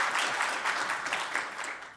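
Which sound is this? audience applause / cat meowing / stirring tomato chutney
audience applause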